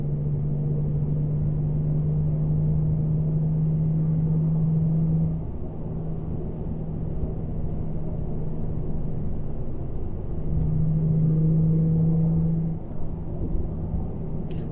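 An Infiniti G35 with stock headers, ISR test pipes and an HKS axle-back exhaust cruises in fifth gear under 3,000 RPM, giving a loud, steady low droning rumble with a deep tone that rises and falls slightly.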